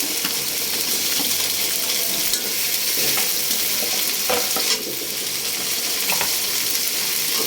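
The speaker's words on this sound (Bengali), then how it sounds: "তো পেঁয়াজটা আমার লাল লাল হয়ে গেছে, আমি টমেটো দিয়ে দিচ্ছি।" Tomatoes tipped into onions already frying to a reddish brown for a duck curry, hissing loudly in hot oil: a steady close sizzle with scraping stirs and occasional clinks, with no voices.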